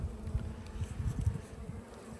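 Honeybees buzz around an open hive during spring inspection, a close, low, fluttering hum that swells and fades as individual bees pass, alone without talk.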